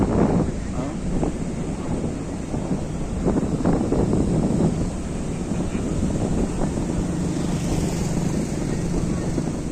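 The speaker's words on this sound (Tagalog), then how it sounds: "Lakas ang alon." Heavy rumbling surge of strong Pacific Ocean waves in the Philippines mixed with buffeting wind noise, continuous and loud, with a faint voice underneath.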